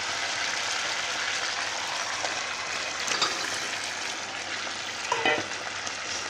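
Fish pieces go into a pan where ridge gourd is already frying, giving a continuous close sizzle with a few louder bursts and scraping stirs partway through.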